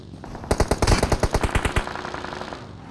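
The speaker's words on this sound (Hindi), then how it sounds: "अब सामने वाले हिल के साइड से भी बंदे फायर कर रहे थे" Enemies fire from a hillside in a video game: one sharp burst of about a dozen rapid automatic gunshots rattles out loudly, then cuts off, leaving a faint ambient hiss.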